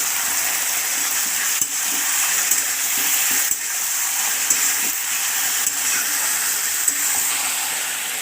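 Chicken pieces fry with salt and turmeric for chilli chicken, a loud, continuous hissing sizzle close by, dotted with faint clicks and pops.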